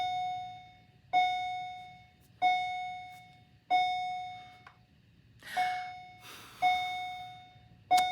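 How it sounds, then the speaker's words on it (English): School bell chimes ring repeatedly in an indoor library setting, sharp bright dings recurring roughly every second or so with decaying tails, moderately loud over a low hum, with a brief rustle midway. "We have a bell that rings, and then for some reason, another bell rings right afterwards."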